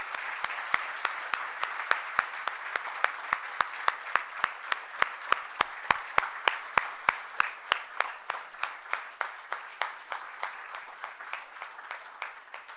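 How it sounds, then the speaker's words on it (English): A room of parents, family members and faculty at a college orientation applauds in a steady, moderately loud round of rhythmic clapping that gradually thins out toward the end. "A big round of applause for your parents and family members."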